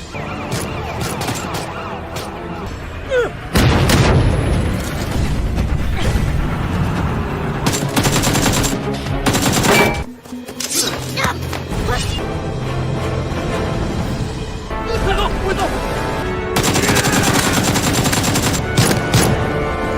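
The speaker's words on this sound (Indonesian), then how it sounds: "Setelah itu terjadilah baku tembak." Dense gunfire in a film shootout erupts in repeated bursts and volleys, loud and close, mixed with booms and sirens and a heavy action score, with brief lulls before the shooting resumes.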